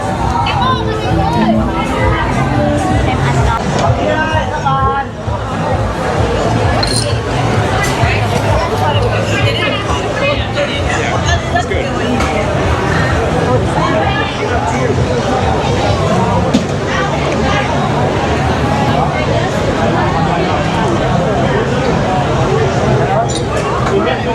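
Dense crowd chatter fills a busy nightlife street in Hanoi late at night, a steady wash of many voices and footsteps with no pause, loud and close throughout.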